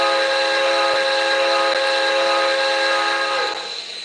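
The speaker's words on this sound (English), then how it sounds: "So here's the whistle." The steam whistle of an MTH model train sounds as one long, loud, continuous blast with strong layered harmonics, holding steady for several seconds before tapering off at the end.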